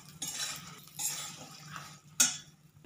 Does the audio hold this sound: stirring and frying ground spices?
yes